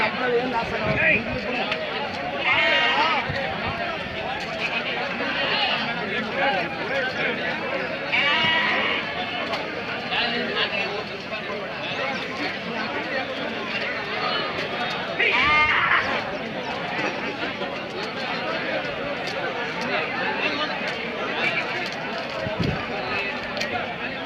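Sheep bleat repeatedly at the Akki Rampura livestock market. Their calls rise over a constant din of crowd chatter, and people talk nearby throughout.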